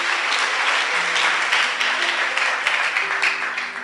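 A church congregation applauds in a loud, dense burst of clapping that holds steady for several seconds, with faint voices and an organ or keyboard tone underneath.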